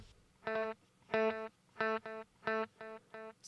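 Electric guitar run through a multi-delay effect, a bright note repeated in a rhythmic series of distinct, evenly spaced echoes that rise and fall in level, with no voices.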